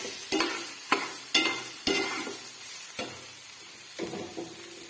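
Boiled wild koyari vegetable is stirred in a hot pan: a series of sharp spatula scrapes lands in an uneven rhythm over a soft frying sizzle, loud and close, fading toward the end.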